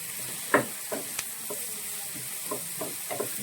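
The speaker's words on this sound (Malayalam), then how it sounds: "3 സവാള ചെറുതായിട്ട് അരിഞ്ഞത് ചേർത്ത് കൊടുക്കുകയാണ്. നന്നായിട്ട് ഇത് വഴറ്റിയെടുക്കണം." Three finely chopped onions stirred and sautéing in a pan for paneer butter masala, giving a soft steady sizzle broken by several brief scraping stir strokes, close by and with no talking.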